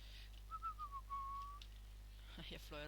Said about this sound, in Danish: Jeg fløjter rigtig tit, når jeg ikke rigtig ved, hvad jeg skal sige.